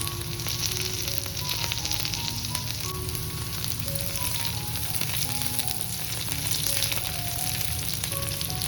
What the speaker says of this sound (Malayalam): സവാള വഴന്നു വരുന്ന സമയം ഇതിലേക്ക് കുറച്ച് കറിവേപ്പിലയും 2 പച്ചമുളകും കൂടെ ചേർത്ത് ഇളക്കിയെടുക്കാം.